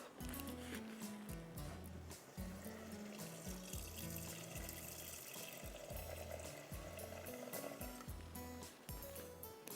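Water poured in a steady stream into flour while a pina colada mousse is prepared on a cooking show, the continuous splashing wash running beneath background music.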